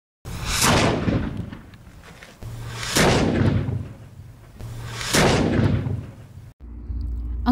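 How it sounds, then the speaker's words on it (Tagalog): Cannon fire during an uprising against Spanish forces in Cavite: three heavy, booming blasts spaced about two seconds apart, each with a long rumbling decay, loud and close, with no talk. "Ang pagputok ng mga kanyon ay hudyat ng pag-aalsa."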